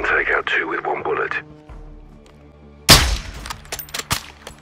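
A single sharp, loud sniper rifle crack in Modern Warfare 2 follows a man's radio-like voice and a quiet pause, with smaller impacts and ring-off after it.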